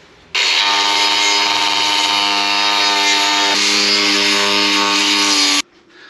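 A cutting disc bites into metal during an e-bike hub motor build, a loud sustained whine with a strong harmonic drone that dips slightly in pitch midway, lasting about five seconds before stopping abruptly.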